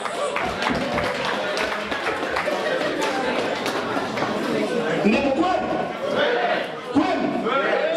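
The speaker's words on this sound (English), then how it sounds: "And please, can we give him a round of applause as he comes?" Crowd at a company Christmas party applauds the chairman walking to the microphone, a busy blend of clapping, chatter and shuffling, moderately loud throughout with voices mixed in.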